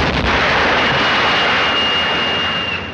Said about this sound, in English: Unless the engines blow up.